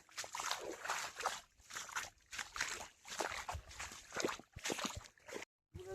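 Rainwater runs across a road in heavy monsoon rain, sloshing and trickling close by in uneven surges, with a brief gap of silence near the end.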